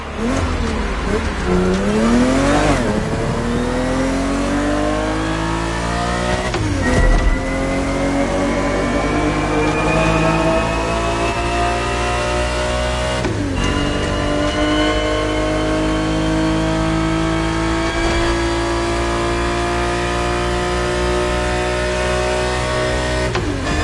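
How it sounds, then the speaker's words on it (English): A Ferrari 365 GTB4, the 1970s grand tourer, roars through a racing video game, its engine climbing in pitch and dropping back at each gear change, loud and close throughout. "The Ferrari 365 GTB4 is the perfect vehicle for you to experience Ferrari racing as it felt back in the 70s."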